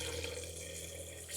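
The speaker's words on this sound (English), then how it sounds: "I'm just going to add water in here and hope that it's cool." Tap water runs steadily and quietly into a container of cashews for making cashew milk, a soft continuous splashing trickle with no voices.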